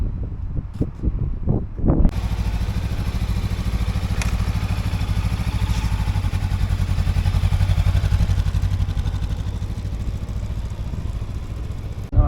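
A newly bought motorcycle being ridden, a few knocks and clatter before the engine takes over as a steady, loud mid-pitched drone with wind noise that carries on until the end.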